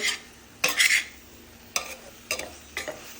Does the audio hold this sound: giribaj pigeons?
no